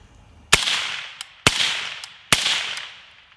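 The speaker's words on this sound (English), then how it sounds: "You want to hear the gunshot, so let's shoot the berm" Three suppressed rifle shots, fitted with a PBS-1 Wolverine suppressor, strike a dirt berm outdoors at regular intervals, each a sharp crack followed by a decaying echo and a faint distant thump.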